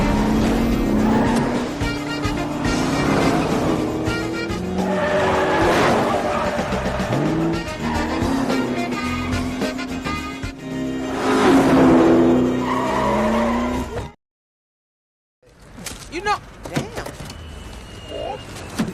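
A taxi in a film driven recklessly toward an airport, roaring engine and repeated loud tire squeals as it swerves, mixed with music and a narrator's voice, then a sudden cut to silence before quieter sounds return.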